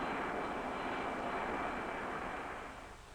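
A jet-engine airplane roars past in a steady, dense broadband rush that holds loud for most of the stretch, then starts to fade toward the end.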